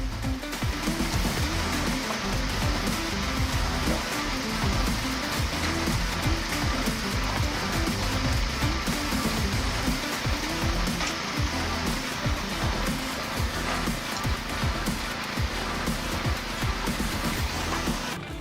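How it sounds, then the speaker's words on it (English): Morbark 1300 tank grinder crushing wood, a loud, dense and continuous roaring rumble with a constant churning texture that holds steady throughout, with no voices. "The Morbark 1300 tank grinder uses the principle of rotation. When the material is dropped, it will grind until it is crushed."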